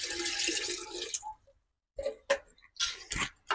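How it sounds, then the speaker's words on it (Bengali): Measured water poured into a pot of rice for Badshahi pulao: a steady splashing pour for about a second, then a short pause and a few scattered drips and clinks close by. "মাপ করে জল দিলাম আমি"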